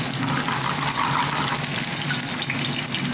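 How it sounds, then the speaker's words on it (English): Diced garlic sizzles loudly and steadily in a hot pan, a dense continuous frying crackle that runs alone with no pauses. "the pan has to be hot because everything sizzles very quick"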